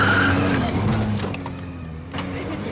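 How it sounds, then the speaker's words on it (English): A car passes along a road with a loud, steady engine drone and tire rumble that eases slightly as it goes by, with no talking heard. "The car is coming."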